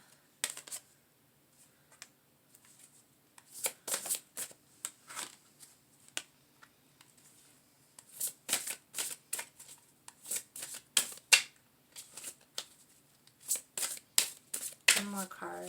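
Tarot cards are shuffled in repeated quick riffling bursts, crisp and close, with short gaps between the bursts.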